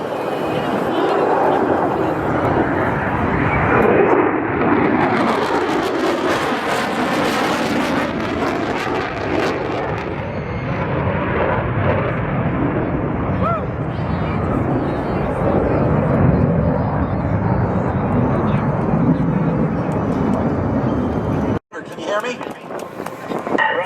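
Military jet at an airshow roaring past, a loud, sustained engine rush that swells and sweeps, with a commentator talking over it throughout before it cuts off abruptly near the end.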